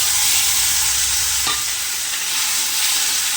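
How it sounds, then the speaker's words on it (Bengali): Mustard spices frying in a pan for a mustard fish curry, with spice water stirred in, give a loud, steady broadband sizzle throughout, and a faint scrape of stirring runs underneath. "জলটার সঙ্গে মশলাটা আমি ভালো করে মিক্স করে দিচ্ছি।"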